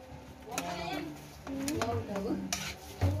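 Biko sticky rice cake stirred in a pan while cooking, with scraping and clattering of a utensil against the pan under a person's talking.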